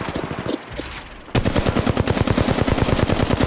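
A Flatline assault rifle in Apex Legends Mobile opens up after a brief quieter moment, then hammers out a long, loud, rapid automatic stream of shots.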